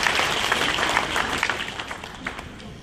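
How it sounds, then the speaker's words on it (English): Warm applause from an audience at a caregivers keynote speech, steady dense clapping at moderate distance that carries evenly throughout with no voices over it. "Members, could you give them and their organization members a warm round of applause?"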